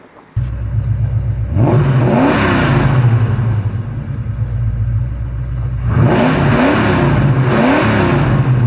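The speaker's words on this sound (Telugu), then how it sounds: "టీజర్ లాంచింగ్ వీడియోలో ఇంజన్ రచ్ చేసి చూపించారు" Futuristic Project K car Bujji revs hard, a loud steady engine drone broken by two bursts of rising, swooping revs, one early and one near the end.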